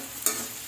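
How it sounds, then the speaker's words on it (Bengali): Food sizzles in a home cooking pan as it fries toward brown, with two quick stirring scrapes over the steady hiss and no speech. "এটা যখন বাদামি ভাবে ভাজা হবে তখন এটার মধ্যে আমি সব মশলা দিয়ে দিব।"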